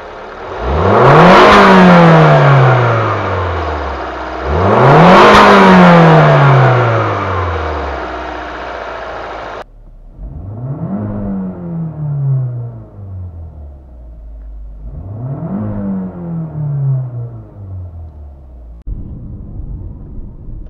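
A Jeep Renegade 1.4 turbo fitted with a K&N intake filter cranks and fires up several times in a row, each start a loud rising whir and revving burst before settling into a steady, quieter idle, with no talk.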